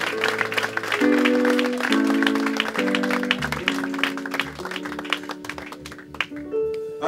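Church congregation applauding and cheering in praise during a worship service, clapping mixed with crowd voices over sustained organ or keyboard chords that shift through several changes.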